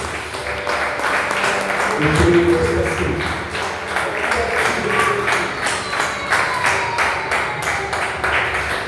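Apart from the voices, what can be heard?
congregation applauding in church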